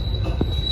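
KA Batavia Ekonomi New Generation train wheels squeal as the train enters Klaten station, a thin steady high-pitched metallic whine over a low rumbling rail noise, close and continuous for under a second.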